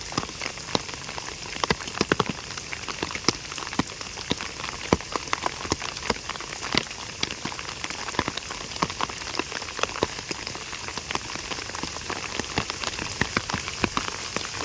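Heavy monsoon rain pours steadily and densely outdoors, a constant roar of countless drops drumming on a surface, with no voices.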